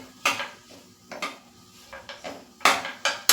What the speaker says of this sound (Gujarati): કોથમીર એડ કરી અને બધું બરાબર સરખું ફરીથી મિક્સ કરી લેશું